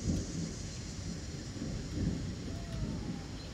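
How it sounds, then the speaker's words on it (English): Rain falls steadily in a backyard during a thunderstorm, a low rumble of thunder rolling beneath the hiss of drops. "I think you're starting to hear the rain."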